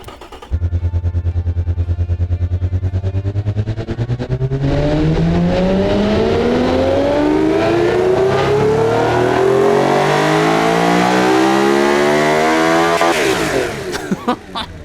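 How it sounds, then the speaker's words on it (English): A 3.2 liter car engine making 371 horsepower at 9,200 rpm in the Automation game idles with a pulsing burble, then revs in a long, loud climbing whine that rises steadily in pitch before dropping off near the end. "Oh, what a fantastic engine."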